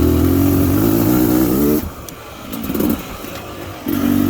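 A 2022 Beta Xtrainer dirt bike with a fatty pipe, held in third gear, revs loud and close with a rising harmonic drone. It cuts out abruptly, leaving rough off-throttle burbles before the engine picks up again.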